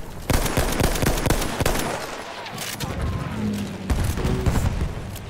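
Battlefield 1 combat with a rapid burst of gunfire and sharp shots, then a heavier grenade blast in a dense, loud mix, while voices talk over the action.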